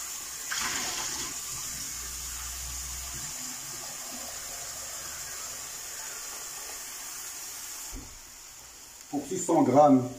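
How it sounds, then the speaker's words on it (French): Water is poured from a jug onto simmering fish carcasses and trimmings, about a litre for a fish stock, making a steady gushing pour that runs for several seconds before a louder splashing burst near the end. "Donc on va lui ajouter de l'eau."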